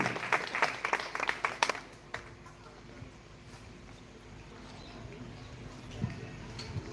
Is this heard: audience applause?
yes